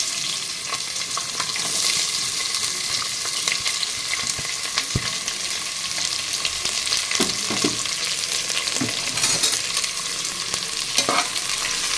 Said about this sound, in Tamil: நல்லா வதக்கிக்கலாம் நல்லா செவந்து வரட்டும் வெங்காயம்